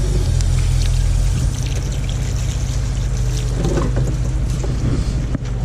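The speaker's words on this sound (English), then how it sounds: "Rinse this off." Water pours and trickles steadily while a cleaned sheepshead fish is rinsed off, with a constant low rumble beneath. The sound is loud, close and unbroken, and no one speaks.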